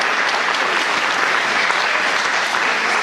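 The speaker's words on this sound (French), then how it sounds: "Applaudissements aux musiciens." Applause from a crowd at a club's fortieth-anniversary concert for the musicians, thick continuous clapping from a large audience that holds steady and then cuts off abruptly.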